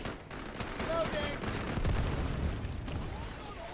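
Gunfire rattles through a firefight in the video game Delta Force, bursts of shots and booms scattered across the scene with a voice talking over parts of it.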